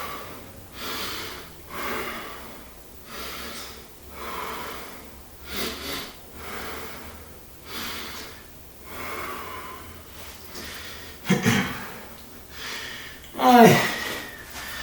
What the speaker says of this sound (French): On respire.